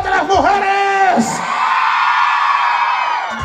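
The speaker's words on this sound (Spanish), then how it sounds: "Un grito fuerte a las mujeres." Women in a loud crowd at a patronal festival stage show in Quezaltepeque shout and whoop together, a dense sustained scream that rises sharply at the start and holds strong throughout.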